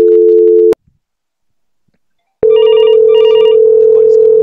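A Cisco CUCM phone system plays tones for an incoming call: a short steady tone, about two seconds of silence, then a loud continuous tone with a warbling ring pattern pulsing over it.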